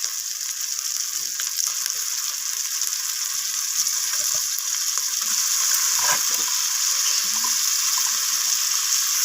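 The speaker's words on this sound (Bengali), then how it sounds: "ফুলকপিটাকে আমি মশলার সাথে নাড়াচাড়া করে নিচ্ছি, টমেটো আর আদার সাথে।" Steamed cauliflower being stirred with tomato, ginger and spices in a pan, giving a steady close sizzle with soft scraping of the spatula throughout, no talking.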